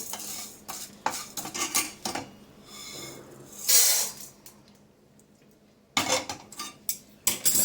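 Roasted toor dal stirred with a metal spoon and scraped from a pan into a basin, with bursts of clattering and scraping separated by a short pause, close and fairly loud.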